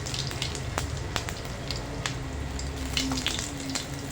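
Cumin and crushed garlic frying in hot oil in a kadhai for bhindi sabji: a steady, close sizzle with scattered sharp crackles and pops, with no talking.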